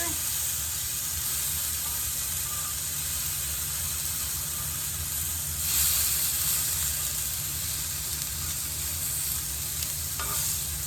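Squash sizzling and frying on a hot grill as the pieces are flipped, a steady close hiss throughout with a brief louder burst partway through.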